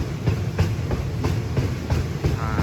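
Train 445, travelling between Lang Suan and Surat Thani, rolls into a siding at Ban Dot station, its steady low rumble marked by regular clickety-clack beats of wheels crossing rail joints, heard from on board.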